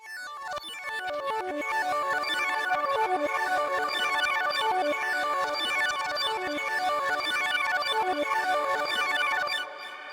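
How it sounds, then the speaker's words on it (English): Bright Serum synth plucks play a fast, repeating melodic pattern with a shimmering, reverberant tail, steady and loud throughout, no voices. "Next I added this pluck"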